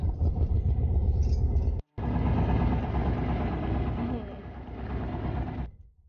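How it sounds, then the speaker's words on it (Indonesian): Fishing motorboat engine running at sea with local fishermen aboard, a loud, steady low rumble that cuts out briefly and resumes, with a voice talking over it. "Saya bersama sejumlah nelayan setempat bertolak ke tengah laut menumpang perahu motor"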